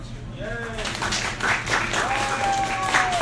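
A crowd at a Star Trek costume contest claps and cheers, bursts of applause rising and falling with a few raised voices calling out over it.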